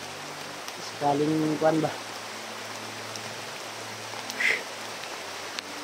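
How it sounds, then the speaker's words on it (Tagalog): Heavy rain pours in the mountains as a steady, dense hiss that fills the whole clip, with a man's short spoken remarks breaking in over it. "Tol, sobrang lakas ng ulan."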